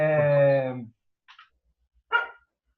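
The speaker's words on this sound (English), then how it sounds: "the door closed and the dogs are outside barking because they don't like to be alone" Dogs bark outside behind a closed door, upset at being left alone: a loud burst of barking at the start, then two shorter, muffled barks after a pause.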